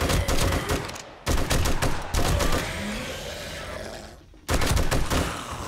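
Sustained bursts of automatic gunfire in the zombie survival game 7 Days to Die, loud and close, with rapid dense volleys broken by short pauses and no talking.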